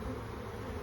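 Honey bees buzz steadily around a hive, a continuous close drone with no pauses.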